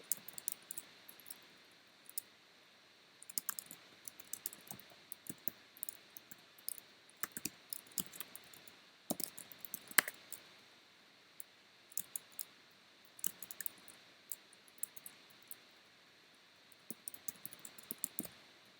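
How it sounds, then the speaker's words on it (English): Quiet, irregular clicking of keys on a laptop keyboard, coming in short bursts of taps with brief pauses, close to the microphone. "you can probably hear me typing"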